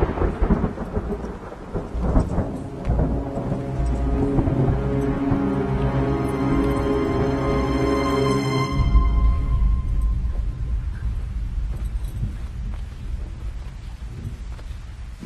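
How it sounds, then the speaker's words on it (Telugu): Thunder rolls outside during a heavy rainstorm in a movie scene, a long, loud, deep rumble over steady rain that swells and then eases off. "బయట బాగా ఉరుముతుంది"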